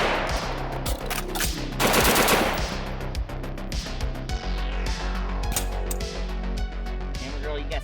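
A PWS MK116 MOD2 AR-15 rifle chambered in 7.62x39 fires outdoors in a rapid string of sharp, loud shots, close by, with people talking over the gunfire.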